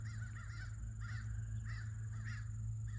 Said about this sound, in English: Hear those crows calling?